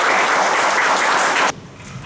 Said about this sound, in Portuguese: Dê uma forte salva de palmas para o Senhor.